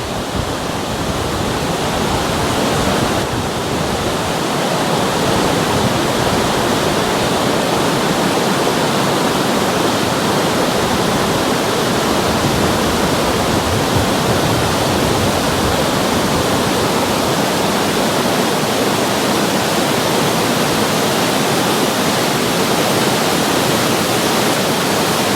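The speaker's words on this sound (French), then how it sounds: "Et là, il y a deux cours d'eau en fait qui se rejoignent." Two mountain streams meeting on a Basque Country hiking trail near Bidarray, a loud continuous rush of flowing water that holds steady throughout, close and alone with no voices.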